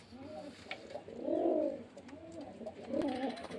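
Pigeons cooing nearby at a pigeon sale spot, a few soft throaty rolling coos repeating at a slow, uneven pace with little else around.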